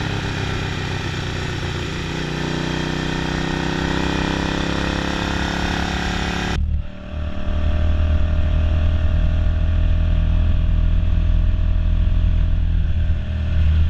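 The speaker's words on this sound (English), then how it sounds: "there's the awesome Suzuki S50, which just kicks ass up these mountain roads" A Suzuki S50 motorcycle climbing Colorado mountain roads near Fremont Pass, its engine droning steadily and loudly throughout, with a brief dip around the middle before the strong, continuous engine note resumes.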